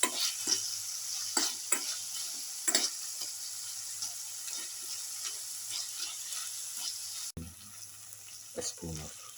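A carrot and tomato rice casserole mixture is stirred in a pan over a continuous background of frying sizzle, with scattered scraping strokes and a low hum.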